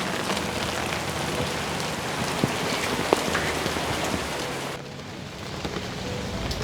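Steady rain falls on surfaces outdoors, a dense continuous hiss with scattered louder drops, constant from start to end with no voices.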